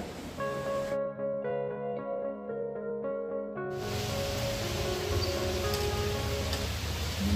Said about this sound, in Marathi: बघा रस्त्यावरती नदीसारखं पाणी वाहत आहे पावसामुळे